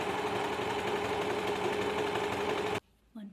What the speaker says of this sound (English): we're gonna use the trusty old overlocker again